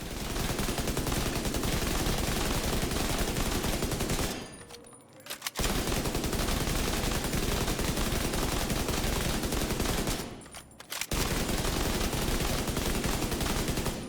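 Famas rifle fire on a video game firing range, sustained rapid automatic bursts that run loud and continuous, broken by two short pauses, probably reloads.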